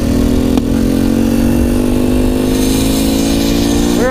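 A lean-running Honda Cub motorcycle engine that had sat unused for a long time runs on choke, with a loud, steady, close-up idle and a short rev near the end.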